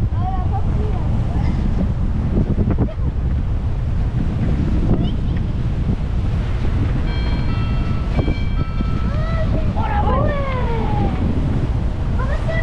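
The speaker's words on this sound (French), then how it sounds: "Regarde, ça c'est les vagues du ferry là." Sea waves thrown up by a ferry's wake, meeting a boat leaving Sainte-Anne in two-to-three-metre swells; a steady, loud wash of water and wind roar throughout, with faint whistling tones and a voice briefly heard.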